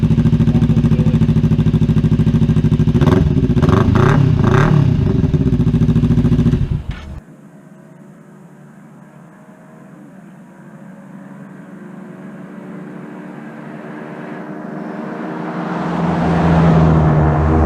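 Kawasaki Ninja 300 motorcycle with an aftermarket exhaust revving loudly at first, then cutting back to a low, steady idle that slowly swells toward the end, close by and with no talk.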